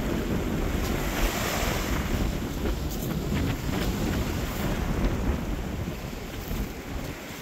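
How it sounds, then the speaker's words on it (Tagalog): Sea waves wash onto the beach at Playa Calatagan after a typhoon, a loud, continuous surf roar mixed with heavy wind buffeting the microphone, with no voices. "Ayan ang dagat. Dagat ng playa."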